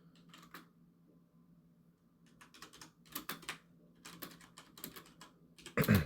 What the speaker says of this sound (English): I had to type something real quick